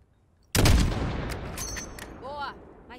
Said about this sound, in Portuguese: Atira quando estiver pronto.